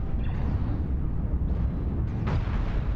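Ships explode in a space strategy game, a continuous loud rumbling roar with several crackling bursts layered on top over a few seconds.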